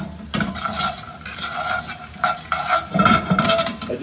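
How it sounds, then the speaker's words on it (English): Cauliflower steaks frying in a pan, a continuous sizzle with intermittent scraping and stirring knocks of a utensil against the pan, close and fairly loud. "as the cauliflower is then cooking away on that side,"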